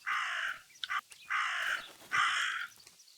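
Three loud, harsh crow caws from a game set in a gloomy Italian countryside, each roughly half a second long with short gaps between them, heard up close with no talking.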